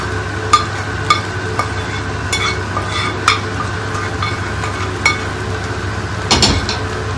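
Food stirred and scraped in a cooking pan while chowmein and egg are mixed together at home, with a low sizzle underneath and several sharp clinks of the utensil against the pan; no talking.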